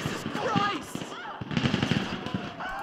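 Enemy gunfire in GTA V, including a minigun: rapid sharp bursts of shots mixed with game effects, loud and near, layered under steady talk.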